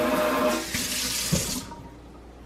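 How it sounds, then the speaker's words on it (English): A deep kitchen sink with an extendable multi-setting faucet runs water steadily and fairly quietly, then the flow is shut off midway, leaving near silence and a small final clunk. "It's a deep sink, and it has a really nice faucet that goes out and things like that."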